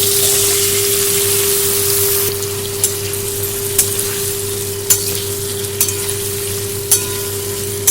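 Spices fry in hot oil as the tempering for a Bengali chorchori of pumpkin greens with hilsa fish head. A loud, steady sizzle drops after about two seconds to a softer hiss with scattered pops, over a constant low hum.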